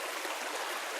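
Creek water flows steadily at Groves Creek near a campsite below cliffs, a continuous close rushing babble with no pauses.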